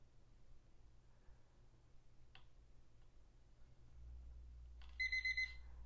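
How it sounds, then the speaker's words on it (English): A household kitchen timer beeps in a quick burst of about four sharp, bright tones near the end, after a quiet stretch with a faint click and a low hum. "There goes the timer."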